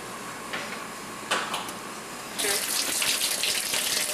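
Water runs from a tap to fill a bath, starting as a soft trickle and then opening into a loud, steady gush, with a few brief bumps before it.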